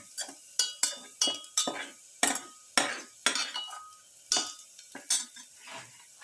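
A spatula stirs ingredients in a pan while sautéing for a pepper garlic beef pilaf. About a dozen sharp metallic scrapes and clinks come at an irregular rhythm, close and clear, with a faint sizzle between strikes.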